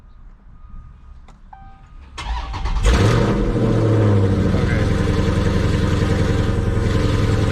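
A modified car with a Diablo Sport tuner cranks briefly and catches, its engine starting with a rising roar and then settling into a loud, steady idle up close, after a short spoken word.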